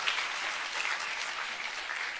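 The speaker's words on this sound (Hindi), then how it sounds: "मुझे पता था 2-4 लोग ही ताली बजाएंगे" A church congregation claps during a pastor's sermon, a steady even burst of many hands applauding together at moderate distance throughout, with no speech over it.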